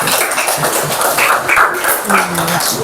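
A classroom of children applauds for a student group after a presentation, steady close clapping filling the room with scattered voices and a teacher speaking over it.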